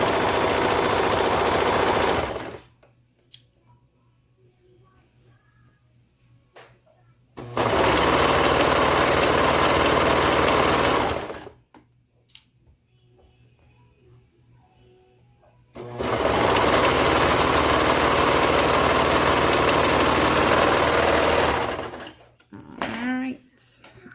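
A sewing machine stitches fabric while tights are being made, running in three long, loud, steady bursts with quiet pauses between them.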